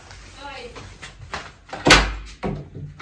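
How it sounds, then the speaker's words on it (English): A door opening in a home during a family visit, a sharp loud thud near the middle followed by a second knock-like bump, under ongoing conversational voices. "open the door for you"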